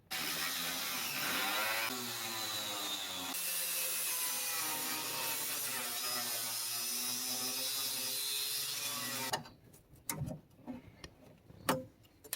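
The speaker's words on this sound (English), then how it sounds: "Power shears are a good tool." Power shears cutting rusty van floor pan metal, a continuous harsh grinding rasp with shifting pitch that runs for several seconds, then stops and gives way to scattered clanks and knocks.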